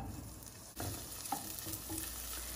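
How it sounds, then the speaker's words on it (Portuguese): Chopped calabresa sausage fries in olive oil for pea soup, a close, steady crackling sizzle broken by a few stirring scrapes and clinks of a utensil against the pan. "Eu vou fritar aqui bem a calabresa"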